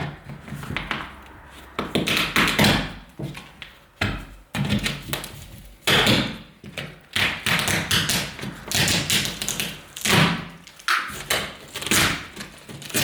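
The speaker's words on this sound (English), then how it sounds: "we're going to just pry this one here back out" A steel plate held in by joint compound is pried out of a drywall wall, with close, repeated knocks, taps and dull thuds coming in uneven bursts.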